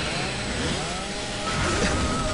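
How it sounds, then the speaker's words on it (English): A chainsaw weapon in the video game Gears of War 3 revs with a steady, continuous buzzing motor drone throughout, dense and unbroken. "So many doubly chainsaws."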